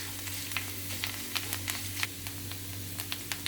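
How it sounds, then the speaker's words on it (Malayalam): Rice frying in a hot pan for a pumpkin skin stir-fry, with steady sizzle and quick irregular scraping clicks as it is stirred, close and fairly quiet, over a low constant hum. "അരിയെല്ലാം പൊരിഞ്ഞ് വരുന്നു, മൂത്ത് വരുന്നു"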